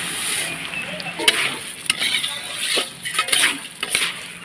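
Green chillies crackle and sizzle in hot oil seasoned with panch phoron, the start of a three-kilo rice-and-lentil khichuri. A steady close hiss runs throughout, broken by sharp pops and light utensil clinks.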